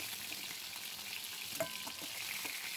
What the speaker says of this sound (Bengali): এরপর বাকি যেগুলো আছে সেগুলোকে ভেজে নেব